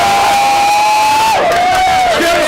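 Crowd at a rap battle in Halifax, cheering and whooping loudly, with a sustained yell over dense noise for a couple of seconds.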